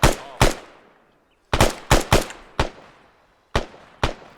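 Machine-gun fire from a military shooter game comes in sharp, loud bursts of one to three shots, with short pauses of silence between them and a quick decay after each burst.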